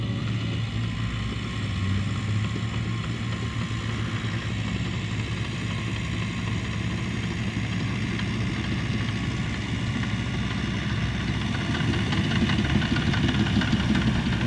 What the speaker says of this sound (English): He's cutting the driveway in. He's got a GPS guided dozer.